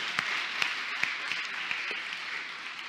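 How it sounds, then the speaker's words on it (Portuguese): Church congregation applauding while standing, a steady broad wash of clapping with a few sharper individual claps standing out, moderately loud and without talk. "Tem que aplaudir de pé,"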